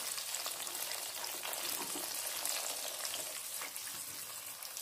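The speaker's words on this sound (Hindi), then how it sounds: "फ्राई होने दें पालक को" Spinach fries in hot ghee in a pan, giving a steady, dense sizzle and crackle throughout, close and continuous with no talking.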